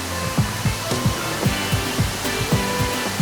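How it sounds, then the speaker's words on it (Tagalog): Rushing water from a waterfall on Siquijor, running strong after rain, makes a steady broadband roar with periodic low thumps, heard alone without voices. "naririnig na yung tubig ng falls"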